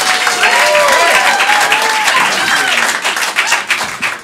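Audience at a stand-up comedy show at a theater applauds loudly and steadily, a dense crowd clap with a few whoops and cheers rising through it, thinning slightly near the end.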